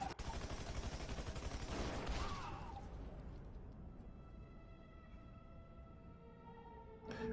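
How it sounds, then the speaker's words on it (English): Dense, continuous gunfire from an AI-generated third person shooter, a character firing on attacking soldiers: a loud barrage for the first two seconds, then thinning into a ringing tail with one more burst near the end. "the character is shooting these soldiers, or the people that's trying to attack him"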